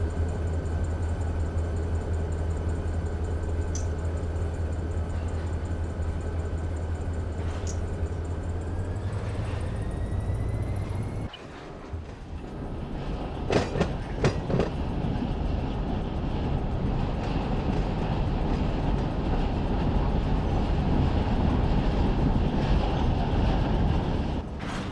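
A heavy freight train in Run 8 Train Simulator rolls backwards with no throttle, a steady low rumble and rail noise that drops out briefly, then returns with scattered clanks and squeals.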